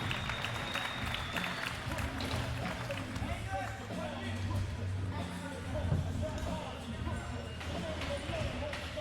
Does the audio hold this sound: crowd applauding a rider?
yes